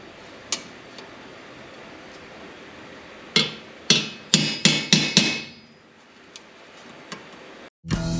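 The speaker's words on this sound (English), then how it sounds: "I'm going to tap these a little bit and see if I can just get the high points out of them." Light hammer tapping metal pieces clamped in a vise, a quick series of about six sharp, close metallic strikes, bunched near the middle, with a few softer taps on either side.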